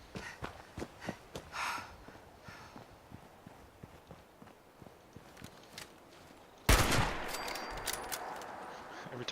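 Gunfire in the video game Fallout 76: scattered sharp shots and light taps, then a loud, heavy burst of fire that keeps rumbling to the end.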